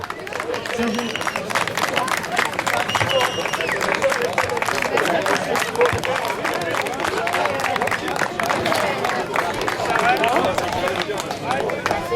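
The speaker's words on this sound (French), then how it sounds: "On les applaudit." Steady applause from a large crowd at a Viet Vo Dao martial arts demonstration, dense clapping with cheering and voices mixed in, continuing without a break.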